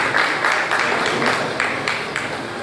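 Steady audience applause at a scientific conference, dense rhythmic clapping from a crowd filling the whole short stretch at an even, moderately loud level.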